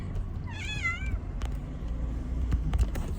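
A single wavering cat meow rises and falls near the start, followed by quiet background rumble and a few soft clicks.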